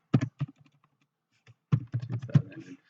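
Someone types on a computer keyboard to enter a localhost address into a browser: a short burst of key taps, a pause with a lone tap, then a quicker run of close, crisp keystrokes.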